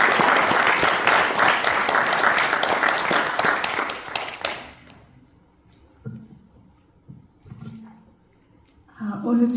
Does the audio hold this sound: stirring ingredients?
no